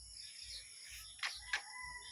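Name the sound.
chickens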